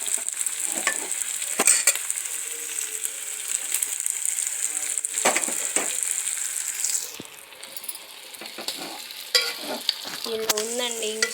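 A spoon stirs mutton curry frying in a pan, making a steady sizzle with repeated scraping and clinking strokes against the metal, close and moderately loud.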